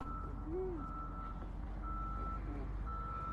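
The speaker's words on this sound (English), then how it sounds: "I don't know if the beeping sound is actual big truck equipment" Big truck equipment sounds repeated reversing beeps, steady evenly spaced tones at a moderate distance over a constant outdoor rumble in Arizona.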